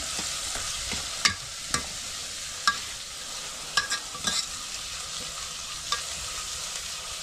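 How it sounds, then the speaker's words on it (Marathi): Chopped tomato goes into browned fried onion in a pan and gets stirred, with a continuous soft sizzle broken by scattered sharp scrapes and taps of the spoon against the pan. "आता टमाटर टाकून घेते मिक्स करून घेते"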